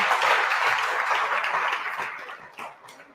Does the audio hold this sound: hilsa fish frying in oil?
no